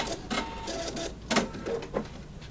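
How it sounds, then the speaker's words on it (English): An embroidery machine runs its thread cutter, giving a few short mechanical whirs and clicks in an uneven rhythm, close and moderately quiet. "Let's see if the thread cutter works."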